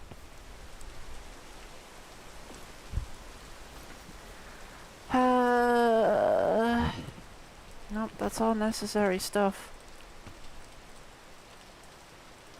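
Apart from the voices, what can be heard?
rain in the video game Peak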